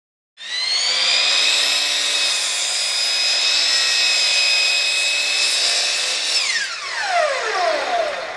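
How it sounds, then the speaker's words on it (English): A miter saw cuts a wood board to length for a bookshelf, a loud steady whine that holds for several seconds and then winds down as the blade spins to a stop. "Now what I'm going to do is put it on the miter saw and cut this piece at 3-foot lengths."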